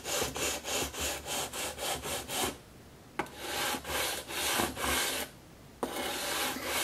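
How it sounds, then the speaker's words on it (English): Sandpaper rubbing back and forth over guitar frets to level them, a steady rhythmic rasping in even strokes with brief pauses, close and clear with no talking. "I'll just keep going till the top of the fret is been touched by the sandpaper"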